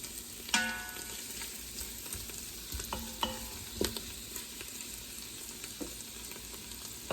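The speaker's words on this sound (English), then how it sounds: "Those are sauteing nicely, smelling wonderful." Carrots with herbs and garlic sauté in butter with a soft, continuous sizzle, broken by a few sharp clicks and scrapes of a utensil stirring the pan.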